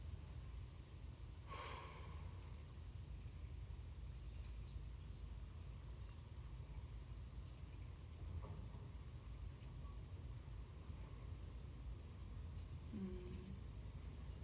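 Small birds call from around a morning porch, brief high chirps repeating roughly every two seconds over a low steady background hum, faint and a little distant.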